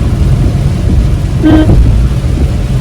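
Steady, loud rain in Kankavli roars as a dense wash of noise, with a brief rumbling swell partway through and no voices.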